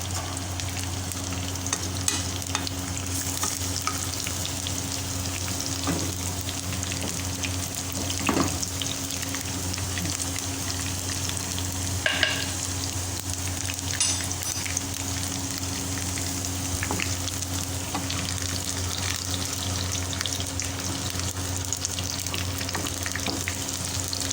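Steady frying sizzle from ghee heating in a pan for a dal tadka, a continuous crackling hiss with a few brief clinks and stirring sounds, no voices.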